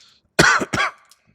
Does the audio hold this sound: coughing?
yes